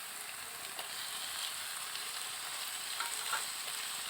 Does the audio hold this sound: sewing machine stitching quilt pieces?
no